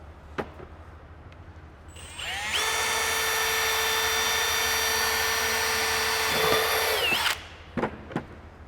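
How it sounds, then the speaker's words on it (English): A power drill bores holes through a Mitsubishi Triton snorkel kit, a loud steady whine lasting about five seconds after a short spin-up, with a few sharp clicks and knocks before and after. "we're just going to drill 2 holes in it"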